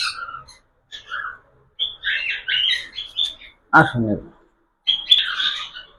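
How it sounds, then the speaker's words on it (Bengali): A pet budgerigar, recently recovered from illness, gives a series of sharp chirps and squawks in short bursts, close by, with a voice briefly speaking between the calls. "এই পাখি কিন্তু সুস্থ হয়ে গেছে"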